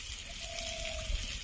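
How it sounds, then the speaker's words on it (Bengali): Water poured into a curry after the spices have been fried down, before greens are added: a steady close liquid rush and trickle with a faint tonal whine, short and continuous, no talk. "ভালো করে কষানো হয়ে গেছে, এখন জল দিয়ে দেব।"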